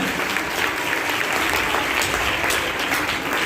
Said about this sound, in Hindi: दोनों हाथ उठाकर गमसामा मरियम की गमसामा मरियम के जन्मदिन पर तालियां बजाएं।